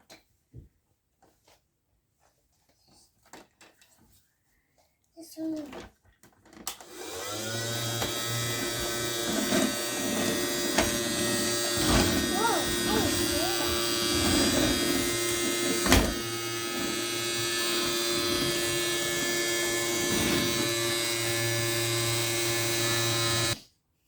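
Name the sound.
Casdon toy Dyson Ball vacuum cleaner running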